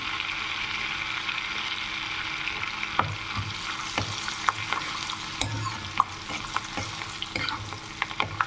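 Chopped garlic fries in oil with cumin for dal makhani and is stirred in the pan, a steady close sizzle broken by sharp spatula scrapes and clicks against the pan.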